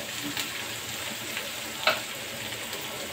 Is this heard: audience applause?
no